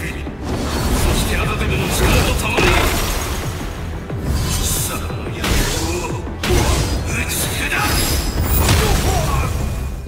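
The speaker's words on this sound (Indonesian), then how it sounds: "Jin dan Kazuya adu pukul dan menciptakan ledakan yang sangat dahsyat." Explosive clash between Jin and Kazuya in a Tekken game cutscene: dense, roaring bursts and shattering crashes fill the whole stretch, loud and continuous with brief dips, layered with whooshes.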